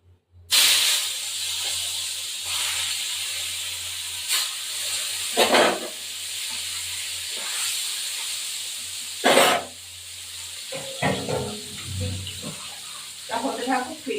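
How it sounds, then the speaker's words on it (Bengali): Rohu fish pieces hit hot oil with a sudden loud, broad hiss that holds steady for several seconds, broken by a few louder spits and crackles, with faint utensil clatter near the end. "এবার মাছগুলো ছেড়ে দেবো"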